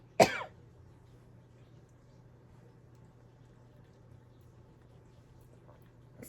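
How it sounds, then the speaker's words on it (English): A single sharp cough near the start, then a quiet room with a steady low hum. "I'm gonna cough."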